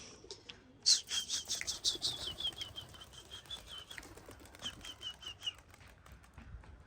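Pigeons burst into wing flapping close by, a rapid fluttering that gradually settles, with faint high whistling tones through it; breeding pigeons.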